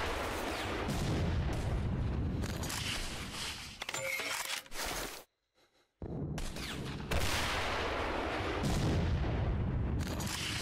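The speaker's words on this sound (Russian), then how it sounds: "Есть еще БТР, на который нужно много выстрелов." Heavy gunfire aimed at an armored personnel carrier in the S.T.A.L.K.E.R. video game, dense bursts of rapid shots and booming impacts that roll on loudly, broken by a brief silent gap midway.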